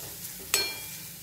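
Garlic, turmeric, chillies and red chilli powder are stirred in a pan for a Maharashtrian dry shrimp chutney, with a soft steady sizzle and one sharp scrape or clink of the spoon partway through.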